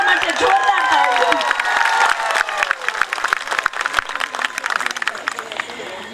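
An audience of women at a Sharad Purnima gathering in Gandhinagar bursts into loud, dense applause that thins into scattered individual claps toward the end, with crowd murmur and voices mixed in.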